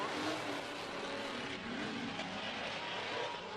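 Drift race cars at Formula Drift in Wall, New Jersey roar at high revs with tire noise, a continuous loud wash of engine sound heard from trackside.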